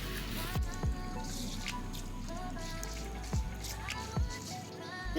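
Water slowly trickles into a Slip 'n Slide pool, a soft, quiet stream punctuated by a few distinct drips and small splashes spaced a second or so apart.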